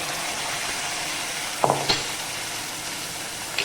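Tomato and onion puree hissing in a hot pan of spices, a steady loud sizzle with a few scraping clinks of a spoon stirring it.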